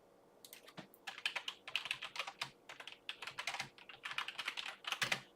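Close-up typing on a computer keyboard during a live trading session, with irregular bursts of quick key clicks separated by short pauses.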